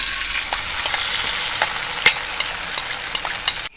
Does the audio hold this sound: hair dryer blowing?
no